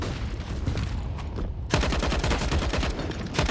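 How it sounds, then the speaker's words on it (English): AUG rifle fire in a Counter-Strike match on Nuke, with dense rapid bursts of gunshots that grow louder and more sustained midway, heard over a steady din of game noise. "spreading the armor-piercing rounds of the AUG"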